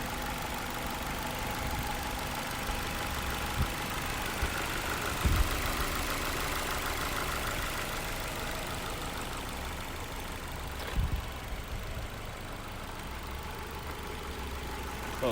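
A 2012 Ford Fusion SE engine idles with a steady, low continuous rumble, with a couple of faint clunks partway through and no talking.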